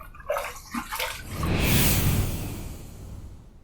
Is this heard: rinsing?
yes